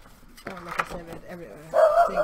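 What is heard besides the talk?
dog barking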